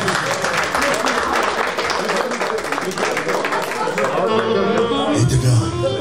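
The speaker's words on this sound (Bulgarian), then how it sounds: "Сега аплодисменти за цялото семейство." Guests at a 50th jubilee celebration clap loudly for a family, a dense round of applause that fades toward the end as people begin talking over it.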